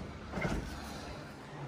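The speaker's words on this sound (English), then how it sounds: "And the door locks." A single dull clunk of a door latch locking, heard once and close, followed by quiet room noise.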